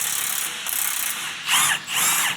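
A ratchet loosens a top bolt on a turbocharged Jeep Wrangler, with a rapid, close metallic clicking that runs steadily and then comes in two louder bursts toward the end.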